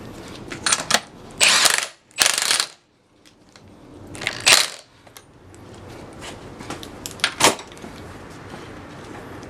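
Ratcheting clicks from a wrench tightening the rear strut nut on a 1998 Toyota Corolla, in a few quick bursts separated by pauses and quieter mechanical rattles, close by with no voices.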